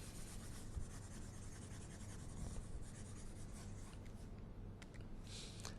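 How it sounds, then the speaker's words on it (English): Soft, steady rubbing of an eraser wiping a classroom board, continuous and fairly quiet, with no talk. "Let me erase this real quick."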